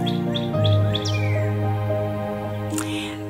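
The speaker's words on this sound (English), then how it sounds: "All the bugs are out, all the birds are out." Several birds chirp and tweet outdoors in spring, with short quick calls and a few brighter sweeps over a steady low hum in the background.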